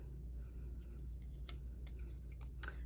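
Scissors snip through card during cardmaking, giving a few sharp, quiet clicks and cuts in irregular rhythm over a low background hum.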